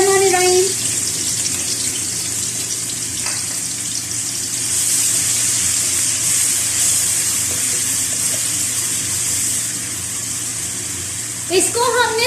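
Chopped onion, garlic and ginger dropped into hot oil for a chicken green karahi, a continuous loud sizzling hiss that swells as more goes in, with someone speaking briefly over it at the start and end.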